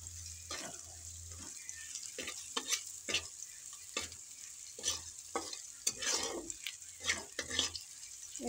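Vegetables stirred and fried in a pan, with a spatula scraping in repeated quick strokes over a steady sizzle, close and moderately loud with no talking.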